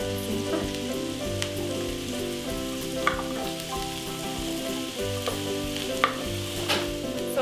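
Parsnips and other vegetables sauté in a pan, a steady close crackling sizzle with scattered pops and occasional stirring taps, no voices.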